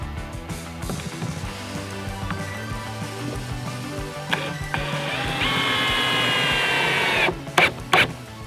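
A power drill drives Robertson screws into warped lumber while building a treetop camping platform, giving a steady mechanical whir with short bursts and spikes near the end, loud and close.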